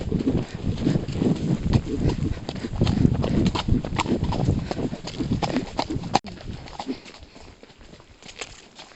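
A horse trots along a woodland trail, its hooves beating a steady, close clip-clop that fades slightly toward the end, with occasional faint rider sounds.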